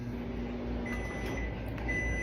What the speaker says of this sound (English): Put it in the microwave.